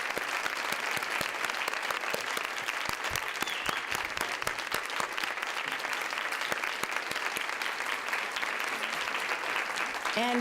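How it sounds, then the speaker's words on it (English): Sustained audience applause at a women's caucus conference session, dense even clapping from a large crowd lasting throughout at a steady level. "let's clap for them."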